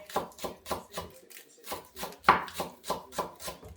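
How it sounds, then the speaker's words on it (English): A knife finely chops spring onions on a board in rapid, regular taps, about four per second, close and crisp, with no talking. "so cut the spring onions"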